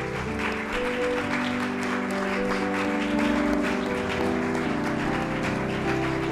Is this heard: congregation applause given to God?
yes